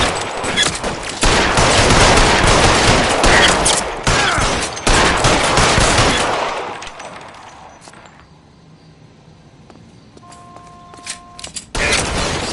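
Gunfight in the video game L.A. Noire: a dense barrage of rapid gunfire for about six seconds, loud and close. It thins into quieter scattered noise, and a final burst of shots comes near the end.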